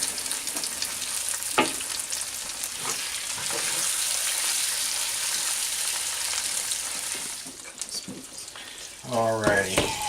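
A cream cheese stuffing mixture is stirred steadily in a cast iron pan, a continuous close wet scraping and sizzling texture, with a brief voice near the end.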